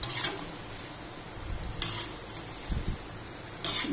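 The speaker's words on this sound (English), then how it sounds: "the potatoes have been cooking for a little more than 10 minutes" Potatoes cook in a pan for sabudana khichadi, giving a soft, steady sizzle broken by a few scraping stirs and light clinks of a utensil, close by and with no voices.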